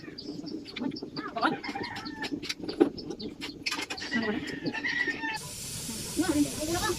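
Breaded chicken necks sizzle and hiss in hot oil, with crackling pops and a bright steam hiss toward the end, while a voice murmurs underneath.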